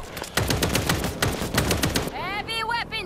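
Heavy weapon gunfire in the zombie shooter World War Z, a loud rapid burst of shots for about two seconds, then fading as a voice speaks.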